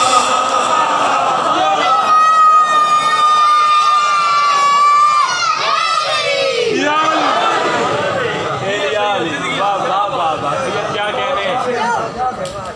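A large crowd at a Muharram majlis in Karbala, Shorkot, chants the Ya Ali slogan loudly in unison, with a sustained call giving way to overlapping shouted voices and cheering that continue under crowd noise.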